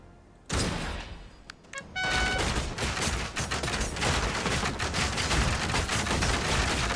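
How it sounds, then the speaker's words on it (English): Dense gunfire from a Commander Quest battle, with volleys crackling back and forth across lanes and a few tonal game chimes near the start, continuing loud and busy throughout. "they are shooting across lanes"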